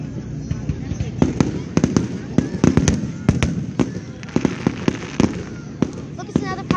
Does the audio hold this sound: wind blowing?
no